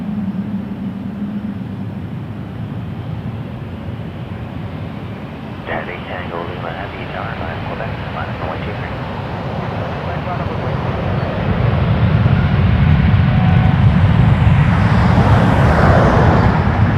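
A passenger jet takes off from runway 23 at Toronto Pearson Airport, its engine roar building steadily from a low rumble to a loud, broad wash in the second half, with faint radio talk in the first part.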